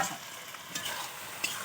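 Pieces of pointed gourd (potol) sizzle and fry in a pan with warm spices, a steady crackling hiss broken by soft scrapes of stirring, close and fairly quiet with no voices.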